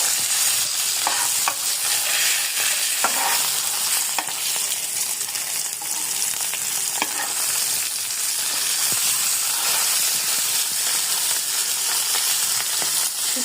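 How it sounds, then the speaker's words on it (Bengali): Fish frying in a pan gives a steady, loud sizzle and hiss throughout, with occasional stirring scrapes and no talking. "মাছটা প্রায় ভাজা হয়ে গিয়েছে, এখন মাছটাকে আমি নামিয়ে নিব।"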